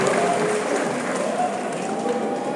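Applause from a crowd at an Isra Mi'raj gathering makes a steady, dense wash of clapping throughout, with a voice heard faintly over it.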